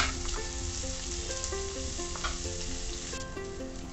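Onions sizzle steadily in hot oil as they fry toward light brown, a dense continuous crackle close by with occasional stirring clinks and no voices.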